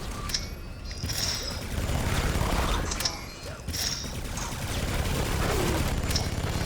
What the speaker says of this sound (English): Minigun seems to be doing some business.